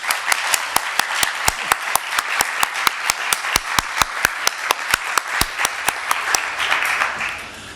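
Applause at an event announcing LGBT fund recipients from PEPFAR and the Elton John AIDS Foundation: sharp, loud, evenly paced claps ring out nearly four times a second over a softer spread of clapping, fading toward the end.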